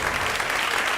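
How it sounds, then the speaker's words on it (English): A brief burst of steady crowd applause, loud and even throughout with no voices. "I'm going to give Phil a round of applause."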